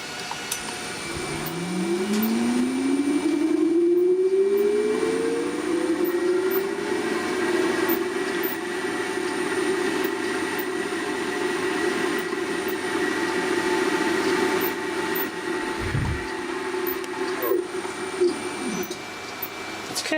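A late-1940s 2 HP three-phase Crompton Parkinson electric motor runs with a loud, steady hum, its pitch sweeping upward early on as it gathers speed, then holding a continuous drone throughout.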